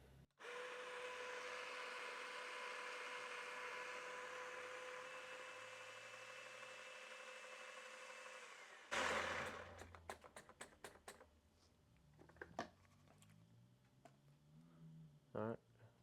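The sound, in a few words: Baratza coffee grinder grinding coffee beans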